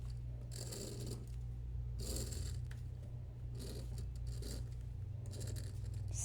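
Pencil drawing a sunflower on paper, with several bursts of scratchy strokes separated by pauses over a steady low hum.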